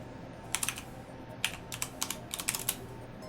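Typing on a computer keyboard, short bursts of crisp key clicks in irregular clusters, close and fairly quiet over a low steady room hum.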